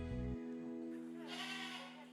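A sheep or goat being fattened for market gives one close, wavering bleat that then trails off, followed by a quieter, breathy animal call.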